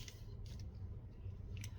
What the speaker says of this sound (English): This I am gonna cut.